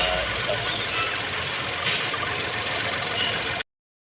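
A Geely Coolray engine with a noise fault, its cover removed, giving a loud, steady mechanical rattle and knock at idle close by. It runs without a break for several seconds, then cuts off abruptly.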